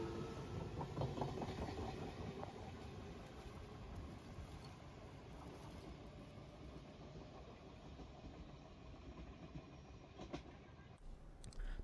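A local stopping train rumbles and clatters steadily as it departs a station in Japan, a continuous loud rolling noise with faint wheel clicks and no voices.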